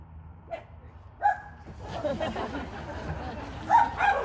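Dogs at a memorial gathering give short yips and whimpering barks close by, several brief calls with a louder cluster near the end, under a murmur of people talking in the background.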